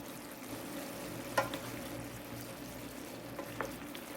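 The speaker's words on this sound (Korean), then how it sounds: "이렇게 자글자글 졸여주세요" Tofu braising over low heat in a seasoned soy sauce glaze, giving a steady soft sizzle and bubbling with a couple of brief louder pops and stirring clinks, close and on its own.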